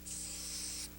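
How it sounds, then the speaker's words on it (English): Hairspray sprays onto hair during Halloween makeup, a single close, steady hiss of just under a second. "we can take a little hairspray and start combing this back"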